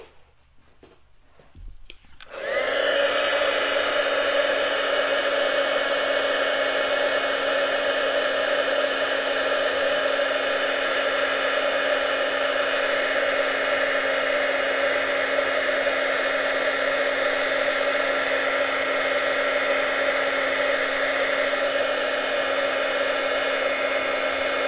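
An embossing heat tool switches on and blows continuously while heating a handmade card, a loud steady whirring hiss that runs unbroken after a brief quiet start.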